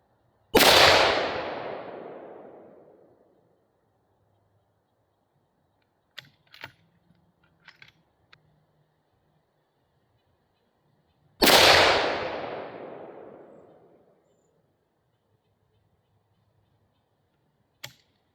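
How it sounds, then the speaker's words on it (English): Two loud, close rifle shots fired to zero a scope, each a sharp crack with a long rolling echo, about ten seconds apart. Faint clicks and handling noises come between them. "We'll shoot a group from here, so I'm going to do 2 more at that same circle"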